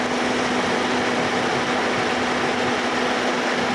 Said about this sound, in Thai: เสียงเครื่องยนต์ทำงานนิ่งเดิมแท้ปกตินะครับ